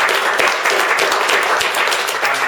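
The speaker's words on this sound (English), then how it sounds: "Give a big round of applause" An audience at a sparkling wine sustainability summit claps steadily, a dense, even round of applause with no pauses.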